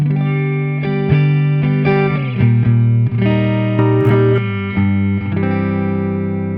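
A warm, rounded electric guitar on its neck pickup, a Greenville Saboteur in a PRS, plays chords and single notes with light overdrive and some reverb, strummed and picked at a relaxed pace, close and prominent.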